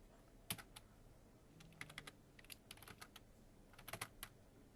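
Keys tapped on a computer keyboard during a 3D modeling lesson, irregular bursts of crisp clicks, some single and some in quick runs, close and fairly quiet with no talking.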